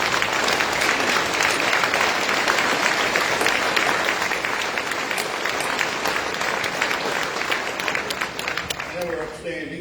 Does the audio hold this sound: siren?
no